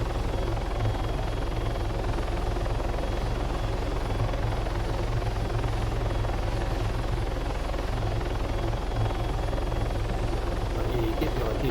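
Helicopter rotor and engine drone in the Arma 3 video game, a steady loud continuous whir throughout while the aircraft is flown and practised for autorotation, with no talk.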